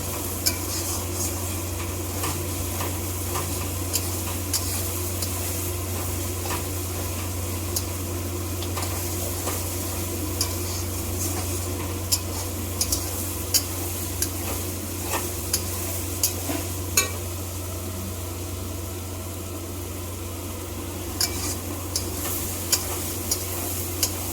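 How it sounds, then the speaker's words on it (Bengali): Water poured into fully sautéed masala in an oily pan brings a continuous, close sizzle with scattered small ticks and clinks of a utensil against the pan, no voices. "এবার এর মধ্যে জল দেবো।"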